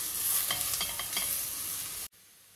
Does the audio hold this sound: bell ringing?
no